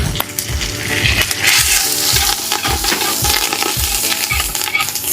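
Curry leaves crackle and sizzle in hot oil in a pan while being stirred for a Tamil goat-head curry (thalakari), with loud, continuous frying and repeated scraping strokes close up.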